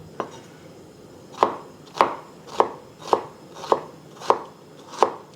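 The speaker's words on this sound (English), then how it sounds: "Just want to cut these into matchsticks." A knife chops half a seedless English cucumber into matchsticks on a board, about eight crisp, evenly spaced taps roughly every half second, close and quiet with no talking.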